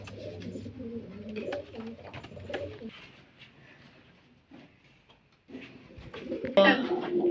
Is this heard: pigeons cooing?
yes